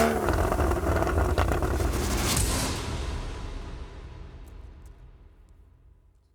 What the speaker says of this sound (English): 3 red Porsches, 3 6-cylinder engines, and 3 Porsche Sports Exhausts. So how about 3 cold starts?